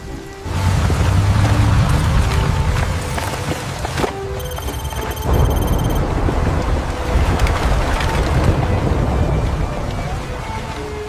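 Heavy monsoon rain pours down hard and without a break, a loud, dense roar of falling water with a low rumble underneath. No one speaks.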